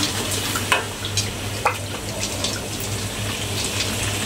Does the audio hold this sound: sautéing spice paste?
yes